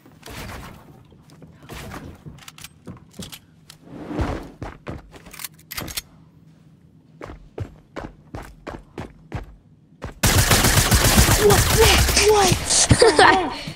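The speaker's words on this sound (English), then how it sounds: "Oh, that was a burst SMG." Burst SMG gunfire in a Fortnite match, heard as short, sharp clusters of shots spaced irregularly against a quiet background, followed by louder, denser action and a brief spoken exclamation.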